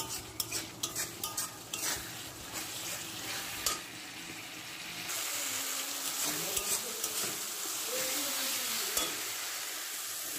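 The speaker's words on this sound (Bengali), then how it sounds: "এটাকে আবার একটু কিছুক্ষণ কষিয়ে নিচ্ছি" Rohu fish curry masala frying and being stirred in oil, a steady sizzle with repeated scraping and stirring strokes, near and moderately loud, with a busier frying hiss in the second half.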